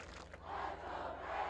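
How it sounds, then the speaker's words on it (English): Loud, rowdy crowd at a high school varsity football game between Mountain View and Frederick, a sustained roar of cheering voices swelling and holding for a moment. "this is a hype rowdy crowd. Sorry. It is very loud"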